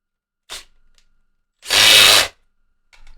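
An electric drill bores into acoustic guitar kerf linings in a single loud whirring burst of about a second, close by, after a short earlier tap and followed by faint handling noise.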